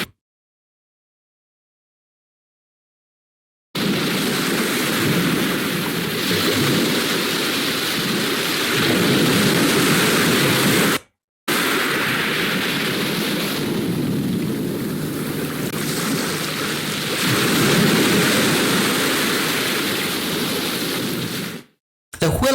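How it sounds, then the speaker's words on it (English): Ocean waves added as a sound effect: a steady, loud broadband wash of surf that swells and recedes, with two brief dropouts to silence partway through. "Here I look for some wave sound"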